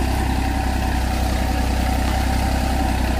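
Massey Ferguson tractor engine pulling a cultivator through a sugarcane field, a steady, continuous mid-low engine drone with a throbbing rumble, close and loud throughout with no talking.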